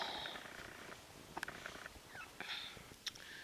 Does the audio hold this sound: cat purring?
yes